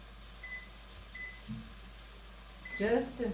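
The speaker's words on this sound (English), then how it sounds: "I'm going to just put them in the microwave" Microwave oven heating diced tomatoes in a kitchen, a low steady hum with a few short faint beeps, and a person speaking near the end.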